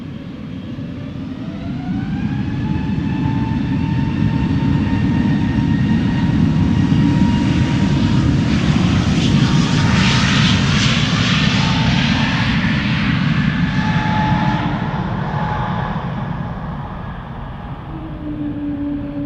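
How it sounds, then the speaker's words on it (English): An EasyJet Airbus A320neo bound for Tenerife takes off at Amsterdam Schiphol, its jet engines roaring loud and close with a whining tone, swelling to a peak mid-clip and easing slightly as the aircraft moves off. "Alrighty, now this is EasyJet to Tenerife"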